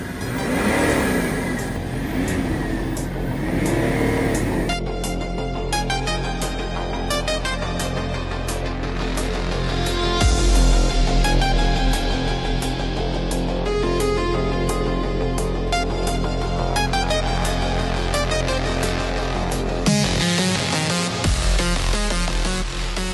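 A BMW 730d E38 diesel sedan, one from 2000, runs and revs with a steady mid-pitched engine drone, loud and close, shifting in tone partway through, with a brief low thump near the end.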